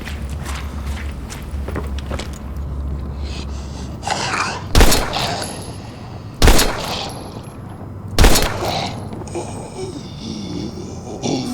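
Gunfire in the Daymare 1998 survival horror game: three sharp, loud shots spaced a couple of seconds apart ring out over a low rumbling background with scuffling movement.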